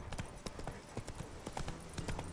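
A horse clip-clops steadily at a trot in The Witcher 3, with even hoofbeats on hard ground, close and clear, over a low background rumble.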